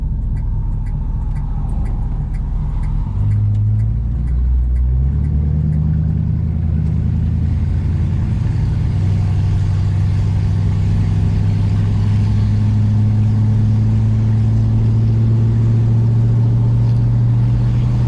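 A 1964 Dodge Polara 500 engine heard from inside the car, a steady loud rumble whose pitch climbs as the car accelerates, with road noise underneath and no talking.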